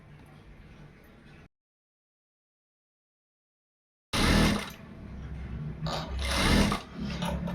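A sewing machine stitches a fabric shoulder seam during piping work, running in a steady mechanical whir after a brief pause, loud and close with bursts of varying intensity.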